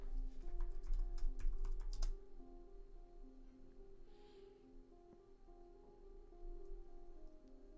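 Computer keyboard keys tapped in a quick burst of clicks for the coding puzzle game Algotica, then a quiet stretch with a hum and a few faint stray key sounds.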